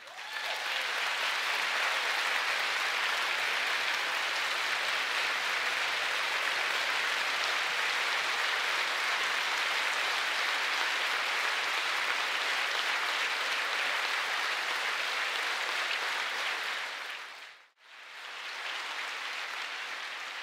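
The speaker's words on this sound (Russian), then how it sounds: "мы включим какие-то кадры из оваций и аплодисментов" An audience gives a sustained ovation, dense even applause holding steady for about twenty seconds before a short dip, then carrying on.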